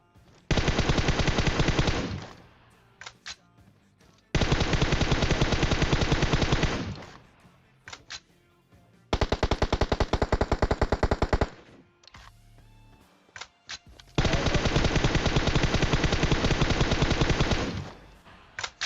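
Long sustained bursts of automatic gunfire in PUBG Mobile, four loud, dense volleys of rapid shots separated by brief pauses, close and dominant with no talk over them.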